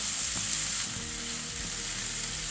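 Cluster bean (gavar) bhaji being cooked in a pan gives a steady, close hiss of sizzling oil with soft scraping and stirring knocks underneath, continuous and unbroken.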